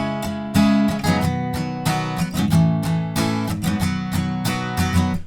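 The first line of a song's chorus chords is strummed on guitar, a steady rhythmic run of chord changes played alone and fairly loud.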